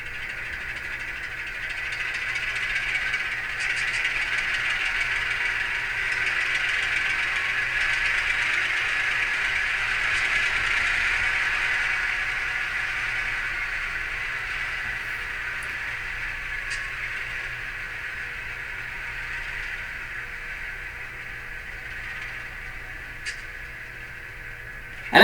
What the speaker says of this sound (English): let's go ahead and listen to the prime mover revving